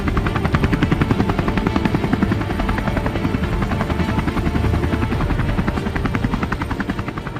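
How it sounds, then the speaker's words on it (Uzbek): Helicopters fly overhead in the morning, their rotors making a loud, rapid, steady thudding chop that fades slightly toward the end, with no voices. "endi ertalabiga vertolyotlar uchib boshladi"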